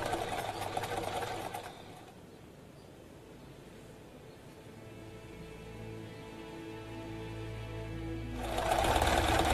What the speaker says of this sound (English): I heard a sewing machine.